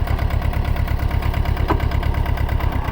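A Mahindra Yuvo 225 4x4 tractor of 21 HP runs on a sugarcane farm, its diesel engine a steady, close, rhythmic chug with no talk over it.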